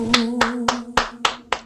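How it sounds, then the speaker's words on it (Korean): Six slow, evenly spaced hand claps, close and distinct, following a sustained sung note. "박수."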